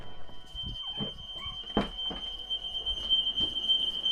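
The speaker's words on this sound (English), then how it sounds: "Smoke alarm, sorry, not the fire alarm." A smoke alarm shrieks with a continuous high-pitched tone at a guitar show livestream, holding steady throughout over scattered thumps and background bustle.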